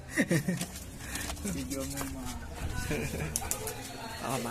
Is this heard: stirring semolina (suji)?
no